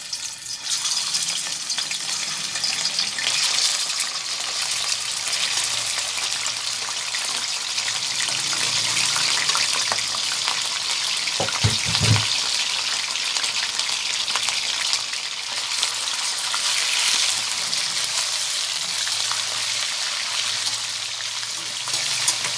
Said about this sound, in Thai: ทอดขาหมูก่อนจ้ะ